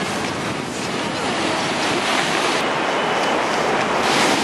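Waves of the Mediterranean Sea rushing onto the shore on Egypt's coast, a loud continuous roar of surf with wind buffeting the microphone throughout.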